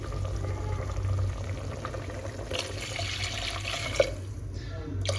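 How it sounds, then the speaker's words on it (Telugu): Water is poured into a cooker pot over mutton and spices for a spicy village-style mutton soup. A soft, quiet stream of pouring and splashing continues, with a small clink near the end. "ఇప్పుడు మీకు ఎంత సూప్ కావాలో అన్ని వాటర్ అయితే పోసుకోవాలన్నమాట"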